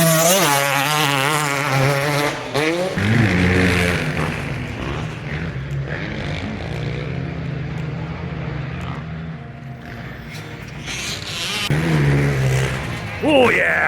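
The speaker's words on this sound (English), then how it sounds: "That's a two-stroke." Two-stroke dirt bike engine on a motocross track, revving and rising in pitch as the bike passes, with a rider circling back around, under steady nearby chatter from onlookers.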